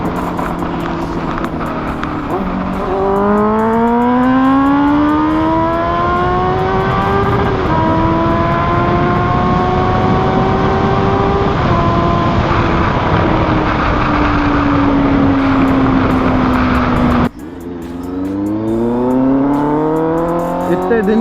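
A Honda CBR motorcycle fitted with an SC Project exhaust revs and rides along a road, its loud engine note rising and falling through gear changes, with a brief drop before it pulls hard again.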